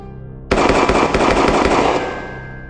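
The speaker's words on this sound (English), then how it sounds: "gunshots rang out." A sudden loud burst of rapid gunfire on Beale Street at night crackles for about a second and a half, then fades into a lingering rumbling echo.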